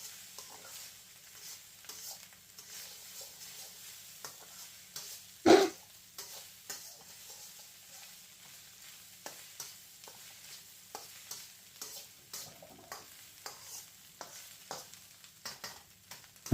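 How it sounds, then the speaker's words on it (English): Egg fried rice with peas sizzling softly in a pan while being stirred, with scraping and tapping of the utensil at irregular intervals and one louder clatter partway through; faint and close. "So I'm just going to keep stirring that in."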